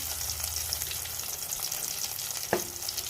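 Dried fish sizzle in hot oil with turmeric, a steady, close, crackling fry that runs throughout, with one sharp utensil knock near the end.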